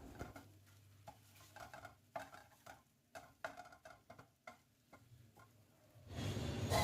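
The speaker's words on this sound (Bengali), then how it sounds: "এবার নেড়ে নেড়ে ফ্রাই করে নিচ্ছি" Beaten egg stirred and fried in a pan with cucumber, a rapid series of scraping utensil strokes against the pan over a light sizzle, close and rhythmic, ending in a louder burst of hissing.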